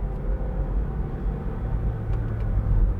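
A 2004 Smart fortwo driving just after a gear change: a low, steady engine and road rumble heard from inside the small car, fairly quiet and continuous, with faint clicks.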